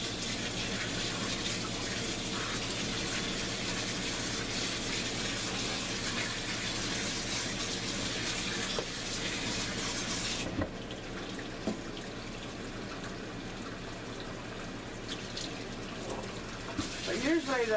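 Hot water runs from a kitchen tap into a sink while chicken is being cooked, a steady loud gush that cuts off partway through and leaves a quieter room with faint clatter.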